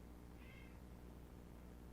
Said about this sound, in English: I think I gotta go let this cat out.